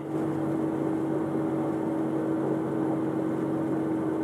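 A Cessna 414 twin piston aircraft engine runs at a steady idle near 800 RPM, giving a constant droning hum with a firm low tone and no change in pitch.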